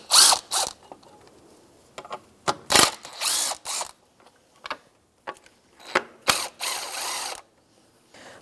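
A ratchet wrench with a 10mm socket removes a belt-cover bracket on a 2004-2009 Subaru Outback, giving quick bursts of clicking ratchet strokes separated by pauses and small metallic handling noises, close up.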